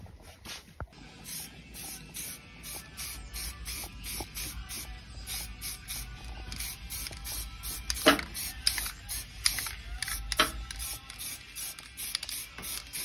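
Aerosol spray paint dusted onto a Recaro seat chassis in light coats: a series of short, evenly repeated hissing bursts with clicks from the can between them, fairly close, quiet and with no talk.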